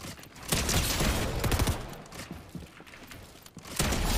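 Gunfire from a shooter video game, a dense burst of shots and mechanical clatter running throughout, loud and close, with a sharp volley near the start and another at the end.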